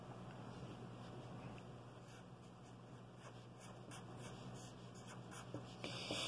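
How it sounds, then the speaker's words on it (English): Pen or marker scratches quietly across a surface as a calculation is written out by hand, a faint continuous scribble under a low steady background hum. "Let's write out that calculation."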